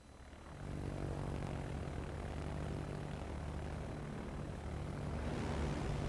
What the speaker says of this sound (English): And Louise launches his torpedo bombers